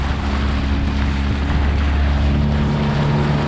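Dinghy outboard motor running at full throttle on the Florida Intracoastal Waterway, a loud steady drone with strong low hum, mixed with wind buffeting and water rush, no talking.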